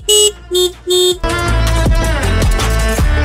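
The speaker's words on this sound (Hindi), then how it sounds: "सुपर बाइक से हॉर्न काफी गजब के रहते हैं। आप मतलब सुनोगे ना" A superbike horn, on a 2025 Suzuki Hayabusa or Kawasaki Ninja ZX10R, sounds three short, loud blasts in quick succession, followed by a longer buzzing tone over a rumbling engine.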